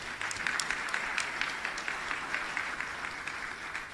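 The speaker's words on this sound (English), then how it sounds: "I would like it for you to give them a round of applause" An event audience claps for the staff in a fairly quiet but steady round of applause, many hands blending into an even, somewhat distant patter with a few sharper individual claps.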